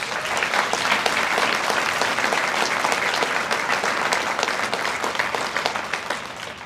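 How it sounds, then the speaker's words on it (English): A large audience at a student ambassador celebration event claps in sustained, dense applause that holds steady throughout, then tapers slightly at the end. "for the staff, for the support, for the families, a round of applause"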